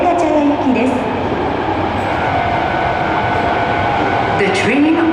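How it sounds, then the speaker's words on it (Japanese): Osaka Metro Sakaisuji Line train pulling into platform 1 at Ebisucho Station, a steady rumble of wheels and motors with brief squeals near the start and end, while a platform announcement voice speaks over it. "1番線に到着の電車は動物園前方面天下茶屋行きです。"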